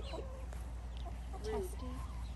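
Faint, soft clucks from an Americana rooster come in short scattered bursts over a low background hum.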